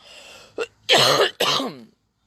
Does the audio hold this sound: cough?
yes